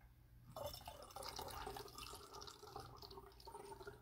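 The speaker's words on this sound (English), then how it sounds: "So now I'm just filling up the rest of it with water." Tap water runs into a spray bottle while a homemade window cleaner is mixed, a soft, faint steady trickle and splash that starts after a brief quiet moment.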